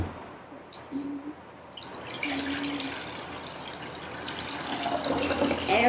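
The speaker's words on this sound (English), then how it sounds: "take your 3 cups of water and pour it in here" Three cups of water poured into a container while making keto gelatin jellies. A quiet moment and a faint clink come first, then a steady, close splashing pour.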